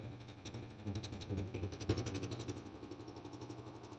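A Bajaj Freedom 125 CNG motorcycle engine runs steadily close by at a low, even idle with a faint throb and one small blip, alone with no talking.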